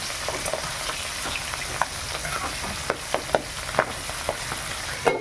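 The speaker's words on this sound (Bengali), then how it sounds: "মাছ ভাজা দেখাতে পারলাম না সেরকম ভাবে, প্রচুর তেল ছিটকাই ছিল" Phultusi river fish fry in oil that spatters, with a dense, steady sizzle broken by sharp pops and crackles scattered throughout, close and fairly loud.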